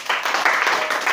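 A church congregation at a French-language service bursts into applause, a dense wash of clapping that lasts about a second and rises and falls slightly.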